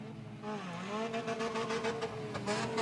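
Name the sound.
race car with transmission trouble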